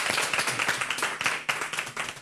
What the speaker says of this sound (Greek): Χειροκρότημα για όλα τα παιδιά